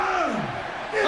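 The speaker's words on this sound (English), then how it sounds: "Here, listen to this crowd." A wrestling arena crowd during a WWF Shotgun broadcast, a roaring mass of voices with rising and falling whoops and yells, swelling louder near the end.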